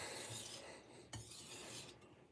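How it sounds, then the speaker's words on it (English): A kitchen knife is drawn across a sharpening stone in edge-trailing strokes, giving close, quiet rasping scrapes, with a couple of sharper strokes standing out. "now I'm going to do some edge trailing strokes to weaken that burr"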